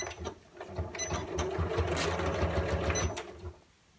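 A sewing machine runs a straight line of stitching through fabric for a storage caddy, a steady close whirring with brief starts and stops at the beginning and end.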